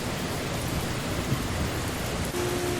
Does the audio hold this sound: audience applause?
no